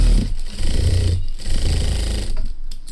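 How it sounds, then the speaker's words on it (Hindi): An overlock sewing machine stitches along fabric, a loud, close, steady mechanical whirr that runs almost without pause, with brief dips in speed. "और इस तरफ से आपने ओवरलॉक कर लेनी है"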